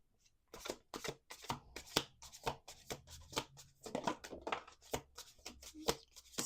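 Tarot cards are shuffled by hand in quick, crisp riffling bursts, close and fairly quiet, with short pauses between the flurries and no talking.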